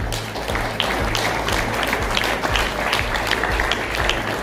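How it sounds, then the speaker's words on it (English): Audience clapping at an awards ceremony for women's 35 to 39 age-group placings at a SISU Schwerin event, a moderate, continuous patter of many hands with a low hum underneath. "Everyone's clapping"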